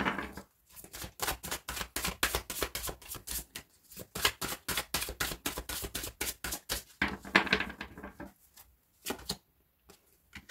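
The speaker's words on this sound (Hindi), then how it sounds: "पहले मैं सारे कार्ड्स निकाल लेती हूँ" Tarot cards drawn one after another from a deck, giving a rapid run of crisp, close flicking and snapping clicks with a few short pauses, and no voices.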